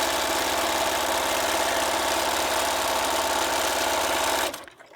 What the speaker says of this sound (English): with the edge of the presser foot on the cut edge of the fabric, I'm just going to stitch down